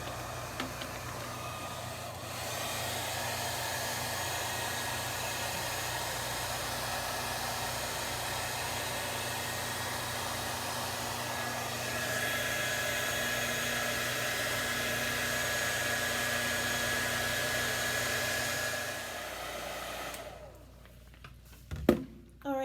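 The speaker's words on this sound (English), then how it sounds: "now we're going to apply the heat. I'm gonna take my hair dryer." A hair dryer blows with a steady, loud whooshing hum for about twenty seconds, then clicks off, leaving a few faint handling noises.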